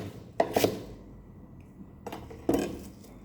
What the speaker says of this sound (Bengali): আর সাথে আমি কিছু সামান্য অনিয়ন যা রাফলি কেটে নেব